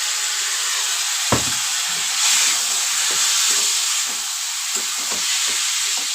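Water from fried ridge gourd hits a hot pan and sizzles in a bright, steady hiss, with a sharp sputter at the start and a swell midway, loud and close with no talking.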